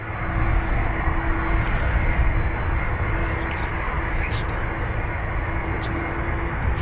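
An airplane taking off from runway 10 right at Dublin Airport, a loud continuous engine roar and rumble filling the whole stretch, with a voice talking over it.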